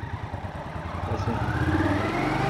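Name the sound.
motorcycle accelerating in first gear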